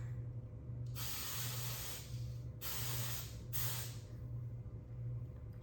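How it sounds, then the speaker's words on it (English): Tresemme Extra Hold hairspray misted onto hair for a ballet bun in three separate hissing bursts, the first and second longer and the third short, close by against a quiet room hum. "I'm now gonna spray some hairspray"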